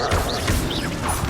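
The Bombarda spell in the Hogwarts Legacy video game sets off a loud, dense blast with a crashing burst, set among continuous busy game effects over a short span.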